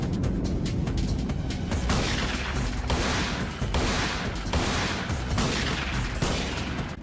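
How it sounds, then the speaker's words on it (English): Gunfire and explosive crossbow bolts in the Digital Devil Saga video game, a dense, loud barrage of repeated shots and booming blasts that continues without letup across the whole stretch, with no voices. "Surf then pulls a Neo and returns fire following a sick-ass dive to the ground"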